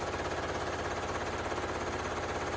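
A sewing machine running a zigzag stitch hums and clatters in a fast, even mechanical rhythm, close and steady throughout.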